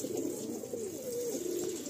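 Steady, low cooing from a nearby blue-eyed, golden-ringed breeding pigeon with purple plumage, a continuous throaty warble rising and falling without pause.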